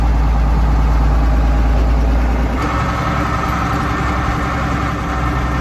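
A tractor engine idles steadily with a deep low rumble, continuous and fairly loud throughout, with no voices.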